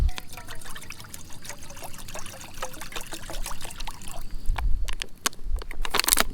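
Water pours and trickles steadily from a bottle into a container, a close, continuous splashing stream with a few sharper clinks near the end.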